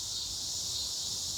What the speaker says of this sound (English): So y'all hear the cicadas?